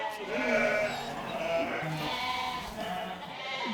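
Ewes in a flock bleat inside a sheep barn during winter housing, several overlapping calls rising and falling over a close, steady murmur of the animals.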